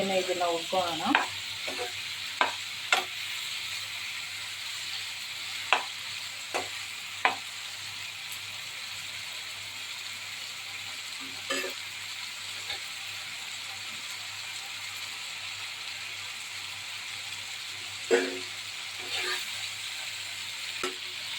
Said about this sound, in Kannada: ऐसे ही इसको भूनेंगे